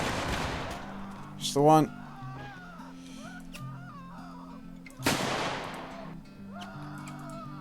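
Musket volleys in the Mount & Blade Civil War mod: two loud, crackling massed volleys sound several seconds apart. Someone talks over continuous game music and battle ambience.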